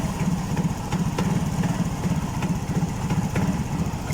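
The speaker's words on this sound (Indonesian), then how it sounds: "Ini tanpa cebusi pun motornya masih berebut." Yamaha Mio motorcycle engine sputtering and misfiring without its spark plug cap, an uneven close idle with rough pulsing throbs and occasional pops.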